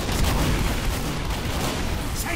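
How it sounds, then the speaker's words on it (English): Repeated gunfire in the video game Team Fortress 2, a dense, steady barrage of shots packed close together and loud throughout with no pauses. "I shot him a bunch of times there"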